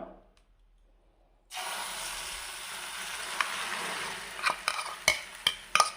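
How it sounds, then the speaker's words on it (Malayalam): Vegetable omelette batter poured into a hot pan greased with coconut oil breaks into a sudden steady sizzle, close and moderate, with a few sharp crackles and spatula taps near the end. "ഇനി നമ്മൾക്ക് അതിലേക്ക് ഓംലെറ്റിൻ്റെ കൂട്ടൊന്ന് ഒഴിച്ചു കൊടുക്കാം"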